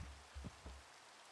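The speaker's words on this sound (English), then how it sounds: "When it's raining in Minecraft, it's such a great feeling unless you're not safe." Minecraft rain falls as a soft, steady hiss, with a few faint low thumps near the start and no voices.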